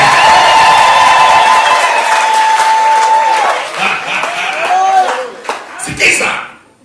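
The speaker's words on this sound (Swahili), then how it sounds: "Pigia Yesu makofi na shangwe na vigelegele." A church congregation claps, cheers and ululates in praise, loud and close, with a long high trilling ululation standing out over dense applause before the crowd noise tapers off.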